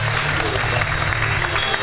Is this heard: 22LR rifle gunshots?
no